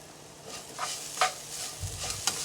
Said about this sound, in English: And let's stir that up.